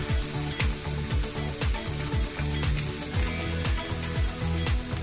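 Spices sizzling in hot oil for a curry, bright, loud frying hiss broken by a regular rhythm of spoon scrapes and stirring strokes, close up, with no one talking.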